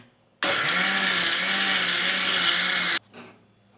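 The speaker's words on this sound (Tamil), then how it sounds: "மிக்ஸிலே போட்டு அரைச்சிக்கலாம்" A mixer grinder grinding batter whirs loudly and steadily for a few seconds, then cuts off abruptly, leaving a brief rattle and quiet.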